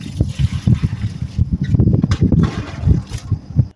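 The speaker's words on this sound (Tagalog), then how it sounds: "naisipan ko muna ito magbuhos ng tubig dito sa may harapan namin dahil nga sobrang maalikabok" Water poured from a container onto dry, dusty ground in front of a house in the UAE, a run of splashy, uneven trickles and spatters close up, with faint voices and breezy background noise.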